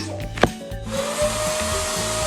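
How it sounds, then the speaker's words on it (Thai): A household vacuum cleaner runs steadily, sucking up dust indoors with a continuous whine and airflow rush; a sharp knock sounds near the start, and the motor hum carries on alone. "โอ้โหมันก็ดูดฝุ่นดูดเลย"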